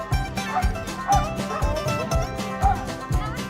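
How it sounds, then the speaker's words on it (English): A dog guarding young children barks in a quick run of repeated sharp woofs and yips, close and fairly loud, with a busy background of other sound underneath. "This dog is determined to protect these children"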